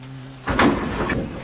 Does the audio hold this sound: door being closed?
yes